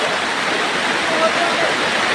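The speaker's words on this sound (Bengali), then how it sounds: "দেখুন প্রচণ্ড পরিমাণ ঝড় বৃষ্টি হচ্ছে" Heavy storm rain and floodwater at Munshirhat bazaar produce a steady, dense, close rushing roar that holds evenly throughout with no pauses.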